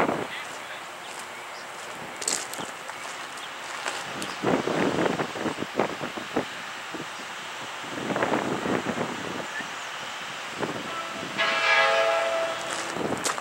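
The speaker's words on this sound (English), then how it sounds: "I think that's that Amtrak." Amtrak passenger train going by near a rail maintenance site, a broad rushing rumble swelling and fading in waves, with a horn-like tonal blast near the end.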